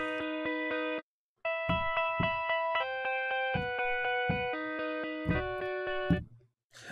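Layered vocal trio phrase from the Indie Fingers sample library, a sequence of sustained harmonised sung notes with clean pitch changes, punctuated by soft percussive thumps and one short gap.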